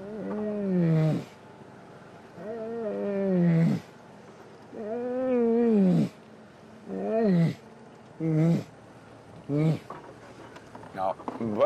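A human voice imitates a lion's roar in a series of deep, groaning grunts, long at first and then shorter and quicker, close and loud with pauses between them.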